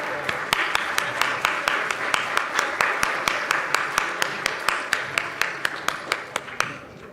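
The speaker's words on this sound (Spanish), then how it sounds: "pido nuevamente un fuerte aplauso para los integrantes del presidio" A small audience at a forum on the crime of femicide applauds the presiding panel, with steady rhythmic clapping at a moderate distance and a faint murmur of voices underneath.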